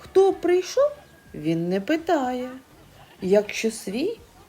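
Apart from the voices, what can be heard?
No distinct noise like a dog, phone or traffic.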